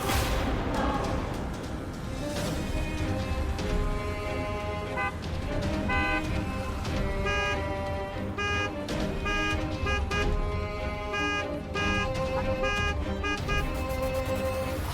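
A vehicle horn honks in repeated short toots and longer blasts, loud and close, over steady traffic rumble with musical tones running through the background.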